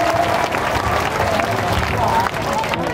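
An audience claps loudly and continuously for children at a stage performance, a dense steady wash of applause that eases slightly toward the end.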